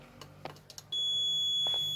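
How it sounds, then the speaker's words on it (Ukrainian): A multimeter on continuity test gives a steady high electronic beep that starts abruptly and holds, after a few faint clicks and taps from the probes touching a control wire. "Замикаємо на один із щуп мультиметра і перевіряємо. О, пищить."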